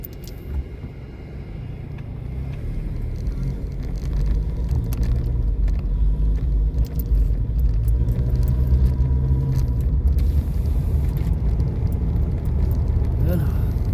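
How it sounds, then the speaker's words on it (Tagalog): A car drives through road traffic near a shopping plaza in the United States, with a steady, loud engine and road rumble that continues throughout. "Ayan, traffic."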